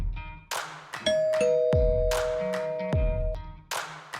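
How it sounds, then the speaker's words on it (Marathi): A ding-dong doorbell rings at a house, two-tone chimes sounding close and clear, with sharp knocks or taps between them. "त्याने बेल वाजवली"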